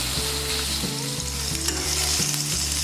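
Paneer pieces sizzling and frying steadily in oil in a pan, a continuous close crackle with faint stirring and no talk.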